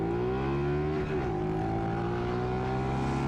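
A car driven in GTA San Andreas gives a steady, loud engine drone with a brief dip and recovery in pitch partway through, continuing without a break.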